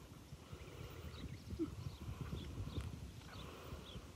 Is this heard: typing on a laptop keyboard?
no